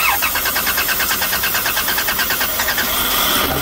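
A car with a no-start fault, sprayed with brake cleaner, cranks with a fast rhythmic chugging from the starter, then fires and catches near the end, close and loud, with no talking.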